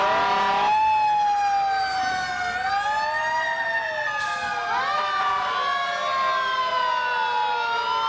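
A fire truck siren wails steadily and loudly as it passes in a Santa parade in Beverly, Massachusetts, with several overlapping rising and falling tones that sweep as the engine goes by.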